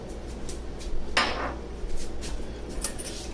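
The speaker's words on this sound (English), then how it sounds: "Just stir that up a little bit." Utensil clinks and scrapes against a bowl while stirring a Cajun hot sauce mixture, a sharp clatter near the start followed by softer intermittent taps and scrapes, close up with no talking.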